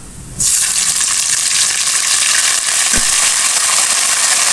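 Ginger garlic paste hits hot oil in a pan for chicken biryani, a sudden loud sizzle that jumps in and then holds as a steady, bright hiss, with one faint knock partway through.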